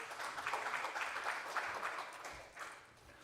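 Applause from a church gathering welcoming an army chaplain to the stage, a full, steady clapping crowd sustained at even loudness, tapering slightly toward the end.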